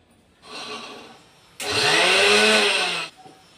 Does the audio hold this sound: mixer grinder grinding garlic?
yes